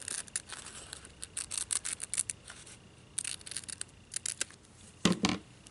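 Scissors snip through a paper leaf for a handmade flower on a gift box, a close run of quick crisp cuts in short bursts, pausing briefly midway, then a louder final pair of snips.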